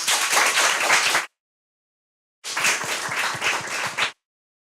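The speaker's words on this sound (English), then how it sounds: "One clap for him." A school audience at a 9th-grade debate claps for a candidate in two separate bursts of applause, each lasting just over a second and a half, divided by a short stretch of silence.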